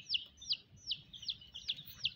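Colorful rainbow chickens give a series of six quick, bright calls at an even pace, fairly close, over a faint low background rumble.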